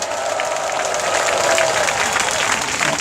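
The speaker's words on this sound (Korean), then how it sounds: "이 믿음대로 잘 되도록 박수 한번 내주시기 바랍니다." An outdoor crowd at a rally in front of the National Assembly breaks into sustained, even applause, a thick wash of clapping with no gaps.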